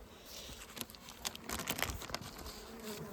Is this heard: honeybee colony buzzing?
yes